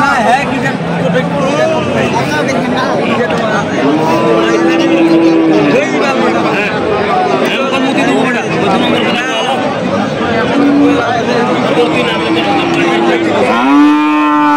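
Cows moo repeatedly, long drawn-out bellows at a busy rural cattle market in Khochabari, Thakurgaon, where Friesian and crossbred heifer calves are sold, over a steady murmur of voices and crowd noise.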